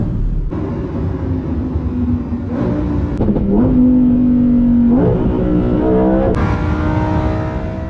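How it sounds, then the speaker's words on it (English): A Lamborghini Huracan Performante starts with a sharp burst, then settles into a loud idle and revs up, its engine pitch climbing and falling close by before a final crack. "let's now start the car up"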